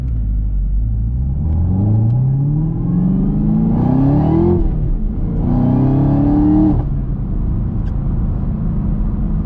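A 2020 Chevrolet Camaro ZL1's engine rises in two strong revving pulls with a rev-matched blip between, loud and close from inside the car, then settles to a steady low rumble.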